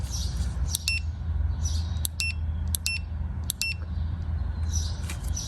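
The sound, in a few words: DINJOO smart bark training collar beeping while adjusting sensitivity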